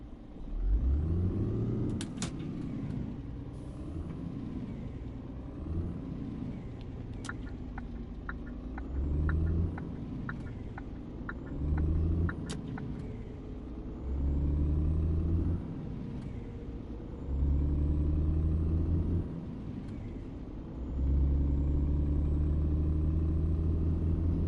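Car engine in a PS4 driving game, idling low then revving in repeated rising pulls separated by short pauses, a steady loud rumble with no talk.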